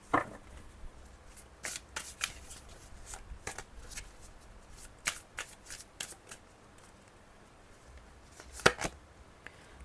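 Oracle cards are shuffled by hand close up, a rapid series of crisp riffling and slapping bursts continuing throughout with no talk.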